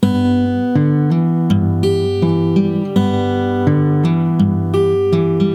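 Fingerstyle acoustic guitar plays the second line of a song's intro, a flowing run of plucked notes and chords, each attack ringing into the next, close-miked with no voice.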